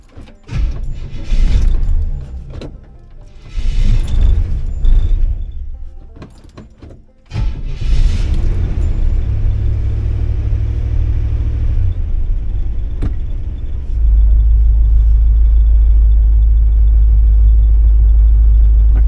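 A 1964 Rambler car engine cranks and catches, then settles into a steady, loud idle with a deep rumble that grows heavier toward the end.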